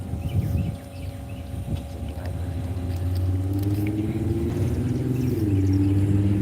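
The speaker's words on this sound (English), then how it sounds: "Oh, here comes another loud car." A loud car passes along a roadside, its low engine rumble building steadily and holding strong to the end with a rising tone, no talk over it.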